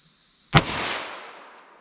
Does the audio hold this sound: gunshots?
yes